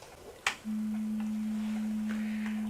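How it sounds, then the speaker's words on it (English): A steady, pure electronic tone from a brainwave monitor hums continuously after a brief click, unchanging in pitch and loudness, with faint background noise. "It's a brainwave monitor, and it sounds like this."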